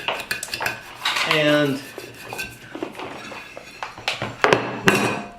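A knife slicing across food sandwiched between two plates in a home kitchen while pasta is made, giving close, irregular clinks, scrapes and clatters of metal on dishware in scattered bursts, with a short spoken word and a brief voiced sound partway through.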